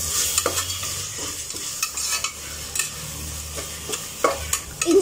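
Ginger garlic paste sizzles and crackles as it fries in a hot pan while a spoon stirs and scrapes in short, irregular strokes, up close.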